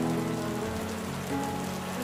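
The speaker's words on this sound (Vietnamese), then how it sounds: "trời mưa nó phi lên các cái ngọn lan" Steady rain falling on orchid pots in a balcony garden, a dense even patter of drops that continues throughout, with a low tonal hum underneath and no talking.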